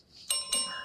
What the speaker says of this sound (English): The bell signals the end of that round.